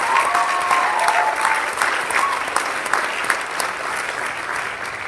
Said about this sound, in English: why don't we give Pastor Zack Williamson a big hand clap